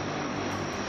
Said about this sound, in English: Hearing these planes coming in and taking off all the time.